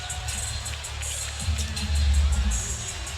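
A basketball arena crowd at a Detroit Pistons vs Orlando Magic NBA game roars and cheers, and the noise swells toward the end. Broadcast commentary runs underneath.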